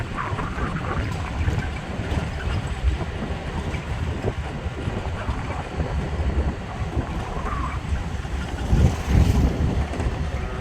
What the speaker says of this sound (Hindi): लग रहा है ये गश्ती दल की बाइक है।